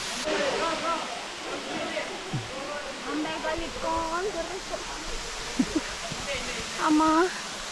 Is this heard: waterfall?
yes